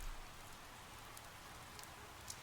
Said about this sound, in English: lulled by the rhythm of the rain and the soft creak of the old building